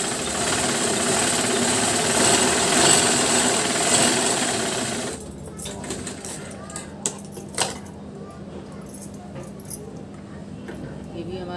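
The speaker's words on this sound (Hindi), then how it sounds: "एक सिलाई और लगाएंगे" A sewing machine stitches a double katori blouse, a loud steady whirring run for about five seconds that then stops, followed by a few light clicks and handling sounds.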